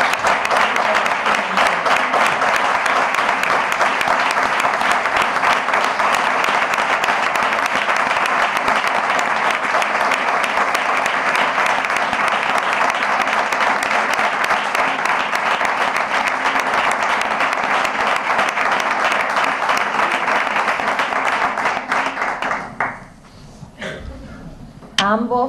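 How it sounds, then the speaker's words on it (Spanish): A town hall audience at a Constitution Day ceremony in Almonte claps in long, steady, crowded applause, loud and continuous for over twenty seconds before tapering off abruptly. "También pido un aplauso"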